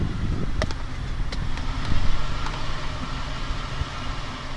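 Rough, uneven idle from the engine of a Pontiac Grand Prix GTP, a steady low rumble with a slight surge midway, heard close up with no talking.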